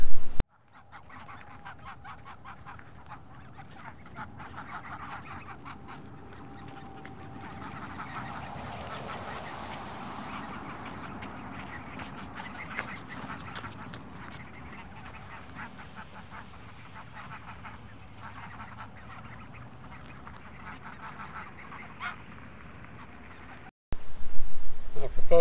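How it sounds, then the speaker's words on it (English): Canada geese honk repeatedly in the distance over a soft outdoor background, their calls overlapping in a loose, scattered chorus. "Photographing Canada geese, you don't exactly need a pocket blind."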